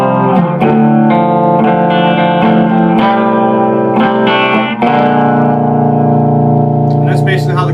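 Electric guitar run through distortion, reverb and echo plays the chorus of a song, full sustained chords struck repeatedly in a steady rhythm before a final ringing chord fades with a brief squeal of fretting noise at the end.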